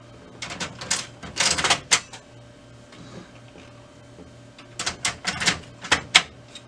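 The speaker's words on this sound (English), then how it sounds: "pull back on that handle until you feel it click and lock into position" Toner cartridges being dropped into and locked onto the drum unit of a Brother MFC L8600 laser printer, giving two clusters of close plastic clicks, rattles and snaps separated by a quiet pause, over a faint steady hum.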